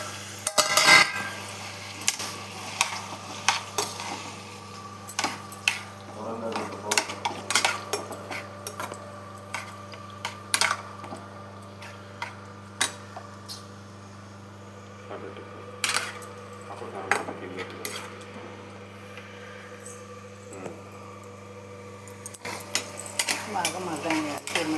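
Onions and green chillies being stirred in a cooking pan, with a utensil clinking and scraping against the metal in steady, irregular taps over a low steady background hum.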